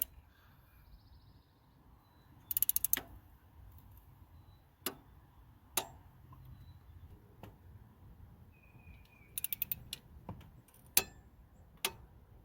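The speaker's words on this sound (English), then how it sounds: "grab our torque wrench and we're going to torque these down to 37 foot-pounds" Faint ratcheting clicks and sharp ticks from a torque wrench tightening alternator bolts on a 1999–2006 Chevy Silverado or Tahoe, scattered over a low background hum, with a couple of quick clicking bursts.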